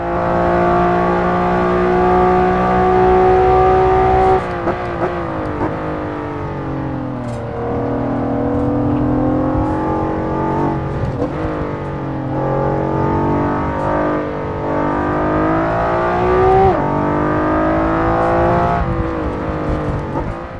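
A loud Honda NSX GT2 race car engine in Assetto Corsa roars and revs continuously, pitch rising through gears and dropping on shifts, close and without any talking.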